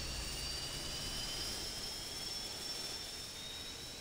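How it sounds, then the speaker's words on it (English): A TBM 930 turboprop engine runs steadily in the Infinite Flight simulator, a smooth, constant whine with a faint high tone, fairly quiet and unbroken with no voices. "I think he just started his plane up just to hear it one more time"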